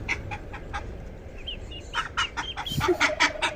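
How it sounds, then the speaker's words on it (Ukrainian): Muscovy ducks call outdoors in a rapid run of honks and clucks, fairly close, over steady background noise with no talking. "Качка кричить"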